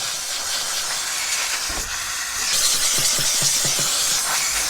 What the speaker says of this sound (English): A little bit of APC, a little bit of steam.